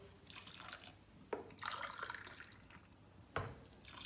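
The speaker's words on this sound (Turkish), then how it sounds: "2 su bardağı da kaynamış su verdim." Boiled water is poured into an onion stew in a pan, giving quiet splashing and dripping with a couple of sharper splashes, faint and close.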